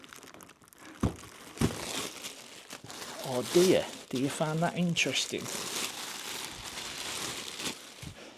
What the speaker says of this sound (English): you don't want to see me taking a plastic bag off something